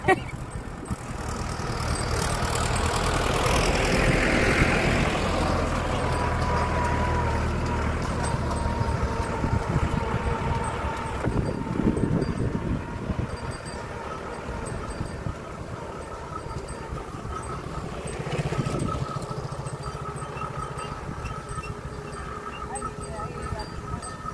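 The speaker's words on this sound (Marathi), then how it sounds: "बघा ती गाडी ट्रॅक्टर आहे मागून ट्रॅक्टर बघायला लागली या" A tractor engine rumbles low and steady as it comes up from behind on a hill road where cattle are grazing, with people talking over it throughout.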